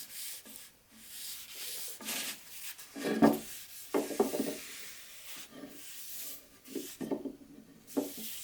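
English chestnut wood stain being wiped off a wooden surface with a cloth, heard as repeated soft rubbing strokes of irregular rhythm, close and fairly quiet, with no talking.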